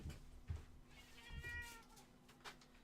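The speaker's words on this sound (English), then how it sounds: "I'm literally getting attacked by this cat." A cat meows loudly and close by, one drawn-out harmonic cry in the middle with shorter bursts around it, against indoor room noise with brief thumps.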